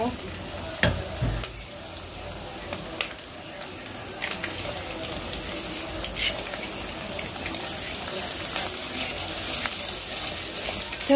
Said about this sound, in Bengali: ডিমটা দেওয়ার পরে এটা একটু ভালোভাবে লাল লাল করে ভেজে নেব